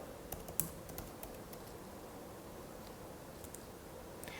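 Keys on a computer keyboard are tapped while entering a security code and password, with a few sparse clicks early and late over a faint steady hiss, quiet and close, no voices.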